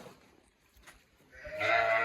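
A single soft lamb bleat rises near the end after quiet rustling, close and fairly loud, with no talking.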